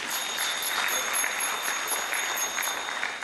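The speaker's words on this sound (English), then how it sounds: "please, if we can just give them a big round of applause" An audience at a temple donation presentation for a lake boat cruise carnival gives a big round of applause, a loud, steady roar of many hands clapping that lasts the full stretch.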